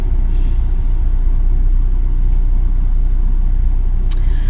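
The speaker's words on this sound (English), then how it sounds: "This truck behind me is so impatient." A truck idles close behind a car in Las Vegas traffic, a steady loud low engine rumble filling the scene, with a brief hiss like an air brake near the end.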